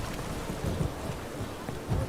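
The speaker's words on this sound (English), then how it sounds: "Why is it always raining when I'm near the damned water side?" Steady rain hisses in The Witcher 3 video game near a waterside, a dense, even wash of falling drops with faint low rumbles underneath.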